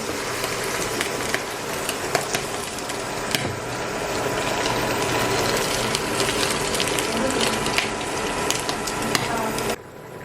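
Continuous crackling sizzle of meatballs frying and sotanghon noodles boiling in a pot, with scattered sharp pops and clicks throughout.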